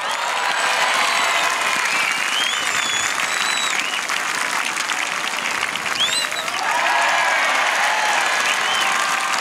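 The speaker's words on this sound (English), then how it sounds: "I've never heard an official get a cheer like that" A crowd in the stands at an international track meet in Christchurch, New Zealand, cheers and applauds an official. The applause is loud and sustained, with whistles and shouts rising above the dense clapping for the whole stretch.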